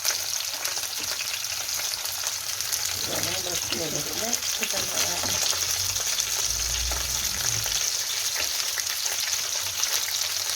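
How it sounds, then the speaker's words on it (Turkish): Manti dumplings sizzling and frying in a hot pan, a continuous crackling hiss, with brief talk in the middle. "Şimdi kızarsın diye bekliyoruz"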